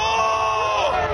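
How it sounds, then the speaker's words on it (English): Revellers at the Summernats car festival in Canberra scream and yell together in a dense, continuous roar of crowd noise, loud and close, filling the whole moment. "The sound of screaming crowds fast drowning out any engines."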